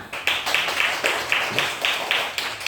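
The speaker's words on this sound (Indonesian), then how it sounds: "tepuk tangan untuk kelompok Mawan Matahari" A classroom of primary school students claps in unison for a student group, a patterned rhythm of about ten loud, close claps in regular beats.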